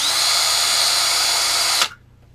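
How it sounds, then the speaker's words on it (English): A handheld power drill bores a small hole through a plastic cap for a DIY aquarium sponge filter, a loud, steady high whine that runs nearly two seconds and cuts off abruptly as the bit breaks through and the drill stops. "drill a hole in it. Nice little tiny hole."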